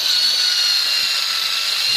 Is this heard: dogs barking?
no